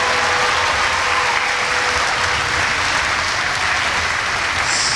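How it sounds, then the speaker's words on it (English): Sustained applause from an indoor crowd honoring volunteers at a community Battle of the Blades charity skating event, steady dense clapping holding for the full length with a faint whistle or tone under it, no talking. "let's have a nice round of applause, first of all, for the volunteers"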